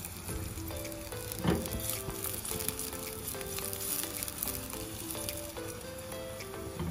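Steady crackling sizzle of tadka spices frying in hot oil for moong dal, close and continuous, with a faint background hum and no talking.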